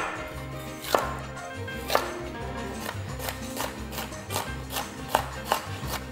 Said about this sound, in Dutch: De paprika's, de champignons, de siepels, maar wel lekker snijden.